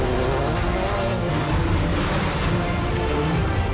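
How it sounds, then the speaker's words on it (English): A rally car at a Battlecross event spins clockwise donuts beneath a crane, its engine roaring loud and continuous with steady tyre scrub throughout. "some clockwise donuts underneath the crane"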